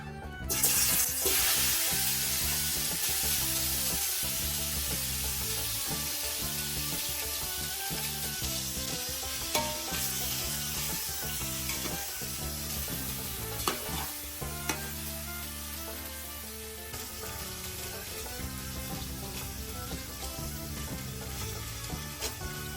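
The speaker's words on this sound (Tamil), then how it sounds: "ஓகே, எண்ணெய் சூடாயிடுச்சு. ரெடி, சிக்கனை போட்டுடலாம்." Loud, steady sizzling of chicken frying in hot oil fills the whole stretch, with occasional clinks and scraping of a utensil.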